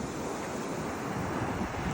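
Surf washes steadily against the shore at Madhupur beach, a constant soft roar of breaking waves with wind buffeting the microphone throughout.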